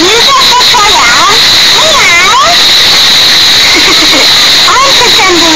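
A voice imitates a cat's meow, several rising and falling mewing calls spread through the clip, close and loud over a steady hissing background.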